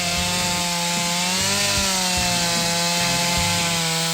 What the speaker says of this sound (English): the Stihl Mississippi 500i chainsaw easily handles the most stubborn wood